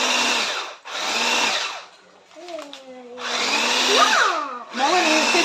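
An electric hand mixer beating white chocolate cookie dough in a home kitchen, a steady loud whirring in long bursts that break off briefly, with voices talking during the pauses.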